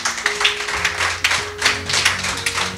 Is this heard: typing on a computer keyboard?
no